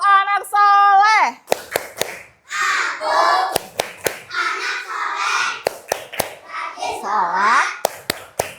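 Young children in an Islamic school class chant together in Indonesian while clapping hands in rhythm, performing the tepuk anak soleh clap game, with sharp hand claps punctuating the loud sung chant throughout.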